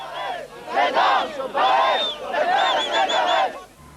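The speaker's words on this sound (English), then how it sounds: "He was booed and jeered by Israeli right-wing anti-peace demonstrators when he arrived at the scene this morning." Israeli right-wing anti-peace demonstrators boo and jeer Shimon Peres as he arrives, a loud crowd of shouting voices rising in several long bursts with brief dips between.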